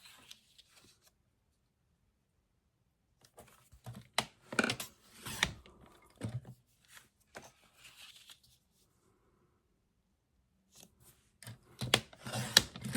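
Paper journal tags being cut to size at a sewing table, giving scattered short crisp snips and rustles in quiet bursts with long silent gaps.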